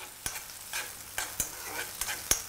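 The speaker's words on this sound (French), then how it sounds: "On va ajouter l'oignon. On va bien laisser roussir." Onion sizzles in hot oil in a frying pan, with soft, steady frying noise broken by about six sharp scrapes of stirring, close by.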